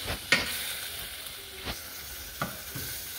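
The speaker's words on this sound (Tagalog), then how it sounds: "simmering here is very important because you need to be sure that your pork is really cooked" Pork simmering in a wok makes a steady soft sizzle and hiss, broken by a few sharp scrapes and clinks from stirring, with no one talking.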